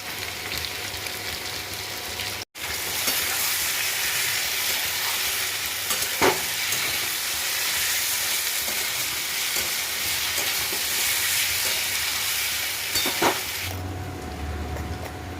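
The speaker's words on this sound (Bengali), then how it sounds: "অনেকক্ষণ ধরে আমি ভেজে নেবো আদা দিয়ে।" Ginger paste sizzles loudly in a hot pan for a long stretch, with a steady hiss and a few scraping strokes from stirring. A brief cut in the sound comes early, and no one speaks.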